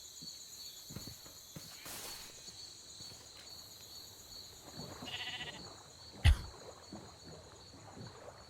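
Minecraft sheep bleating in the game, a few soft bleats over a quiet game background, with a sharp thump near the middle.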